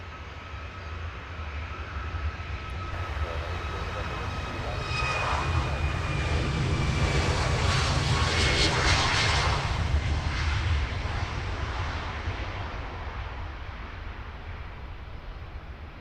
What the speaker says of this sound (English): Looks like we're on for a hat-trick of Ryanair departures.